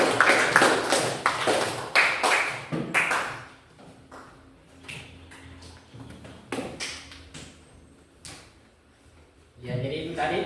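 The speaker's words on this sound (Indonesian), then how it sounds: "berikan aplaus untuk kelompok 1" Applause from a school classroom for a student group after their presentation, a burst of clapping that fades into scattered claps and talk, with a voice at the end.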